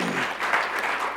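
Applause from a small gathering at the close of an open-space conference session, a short burst of steady clapping filling the room.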